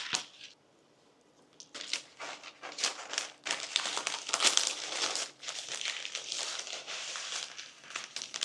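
Paper crinkles and rustles up close while being handled and crumpled for serving a Turkish fish wrap, sounding as a busy series of crackly bursts after a brief quiet start.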